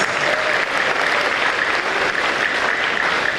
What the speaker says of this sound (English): Now, round of applause for that.